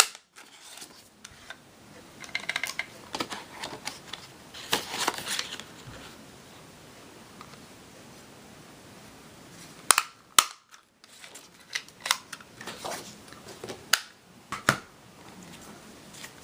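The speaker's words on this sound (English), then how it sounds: "I'll go ahead and punch these out." Sharp, sparse clicks of a paper punch cutting circles out of green cardstock, several quiet snaps spread unevenly with handling rustle between them, close and otherwise quiet.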